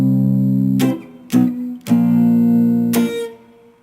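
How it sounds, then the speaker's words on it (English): Electric guitar played with a partial left-hand mute, only the high strings ringing while the others are damped, giving a few sustained chord stabs separated by short percussive muted scratches, close and clear with no talking. "with a partial mute, I'm going to have part of the strings muted, and I'm going to hear part of them"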